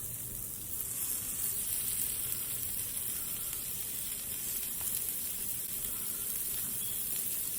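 A lobster tail cooking on a stick over a hot lava rock, giving off a steady, soft crackling sizzle that continues evenly throughout without talking.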